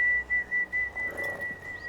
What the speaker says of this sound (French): Quelqu'un siffle?